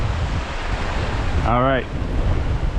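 Strong wind and choppy water around a fishing boat on a rough day, with winds of 20 to 25 mph; a steady, loud rush of wind noise and surf runs throughout, with someone speaking briefly in the middle.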